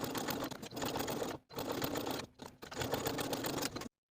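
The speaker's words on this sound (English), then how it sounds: "edge stitch that facing to its seam allowance that's underneath" A sewing machine edge-stitches the facing of a fleece sweater, running in a dense, rapid, continuous whir that stops briefly twice before carrying on.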